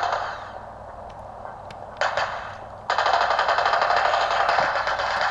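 Video game gunfire, a quieter stretch of shots followed by sustained loud automatic bursts of rapid rattling fire that keep going to the end.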